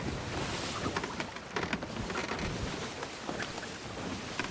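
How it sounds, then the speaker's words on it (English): Wind gusting while sailing a ship in the video game Sea of Thieves, a loud, continuous broadband rush with fluctuating gusts and no talking. "Wow, we have wind, bro."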